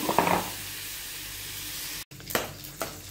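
Milk cream collected over a week heats in a nonstick pan on the way to ghee, giving a soft steady sizzle and faint stirring scrape, with a brief dropout and a couple of louder scrapes near the end.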